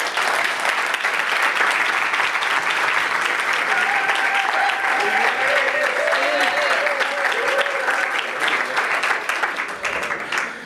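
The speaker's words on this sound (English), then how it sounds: "Let's give them a round of applause" A conference audience gives a sustained round of applause, dense even clapping from many hands lasting about ten seconds before tapering off, with murmured voices and a faint tonal sound under the clapping.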